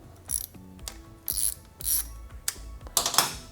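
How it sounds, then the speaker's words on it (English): A hand ratchet with an 8mm socket works on engine case fasteners of a 2015–2018 Yamaha R3 motorcycle, giving several short, close clicking bursts with brief gaps between them. "For this purpose, I will be using an 8mm socket."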